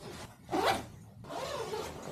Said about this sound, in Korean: 세탁기에 돌리기 전에 꼭 주머니, 지퍼 같은 거 다 잠그셔야 돼요